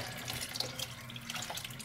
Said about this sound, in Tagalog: lagyan natin ng kaunting tubig